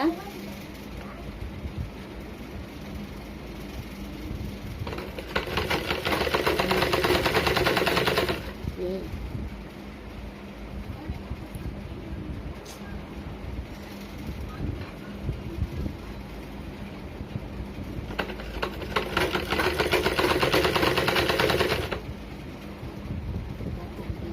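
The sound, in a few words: sewing machine stitching blouse piece and cross piece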